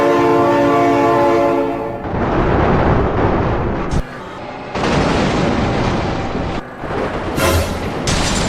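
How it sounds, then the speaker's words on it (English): In the BeamNG driving game, a loud sustained train horn blares, then the roar and clatter of a passing train rushes by in heavy bursts with brief gaps, close and dominant throughout. "Oh my god, train!"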